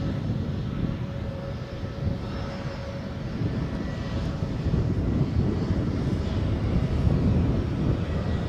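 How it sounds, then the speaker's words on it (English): An EasyJet airliner approaches near Edinburgh airport with a steady, loud, broad engine roar that holds throughout and builds slightly toward the end. "Probably hear the EasyJet that is coming my way"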